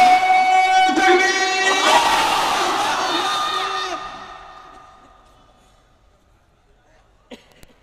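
A large crowd at an Islamic waz sermon gathering chants the takbir response in a loud, unified, drawn-out cry. The chant fades away over several seconds into near silence, ending with a couple of sharp knocks.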